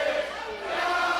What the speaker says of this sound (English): this crowd lavishing Jarett Diaz with the chant of garbage